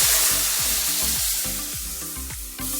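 Cognac sizzles and spits in a hot pan for a pan sauce after steaks are seared, a loud steady frying hiss with rhythmic bubbling pulses, close up and with no talking.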